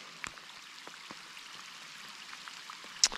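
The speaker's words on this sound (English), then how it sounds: "Here comes the rain." Rain falling at Lake Tinaroo, a steady faint patter of drops with scattered light ticks throughout and a sharper splash near the end.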